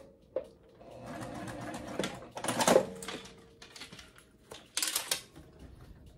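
A sewing machine stitches an X pattern on a circle bag in several short runs of rapid mechanical whirring, separated by brief pauses, fairly close and moderately quiet.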